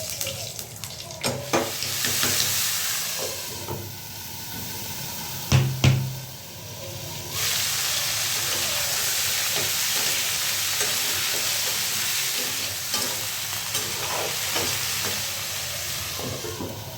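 Fish frying in a pan in a home kitchen, a steady broadband sizzle with stirring clatter and a brief burst of running tap water partway through, no talk.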